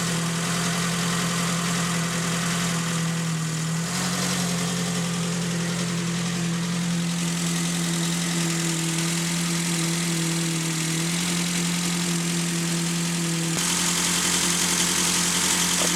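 A Ford Focus engine idles steadily after a cold start, a loud continuous mechanical hum with a fixed low drone that holds unchanged for the whole stretch, with no talking.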